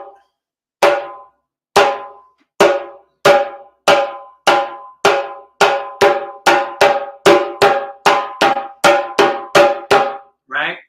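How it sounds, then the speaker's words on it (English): Slap strokes on a hand drum, struck one at a time: about fifteen sharp, accented hits with quick decays, spaced out at first and then coming faster in a steady rhythm, loud and close with no talking. "the last sound is called a slap sound"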